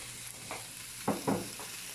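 Bacon fries in a pan as its fat renders, giving a quiet, steady sizzle with a few soft utensil scrapes and stirs.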